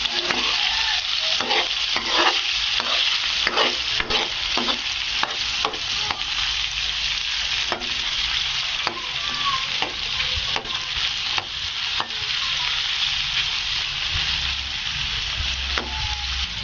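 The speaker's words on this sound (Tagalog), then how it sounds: "haluin na natin Kaoragons yung mga sahog" A utensil stirs ginger and other ingredients in a sizzling pan for Filipino inun-un, vinegar-braised fish, with steady frying hiss and regular scraping strokes close by, no voices.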